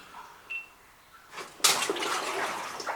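A foot splashes into shallow water inside an old mine, a sudden close slosh and churn after a quieter stretch with a brief faint tone, the water then swirling steadily.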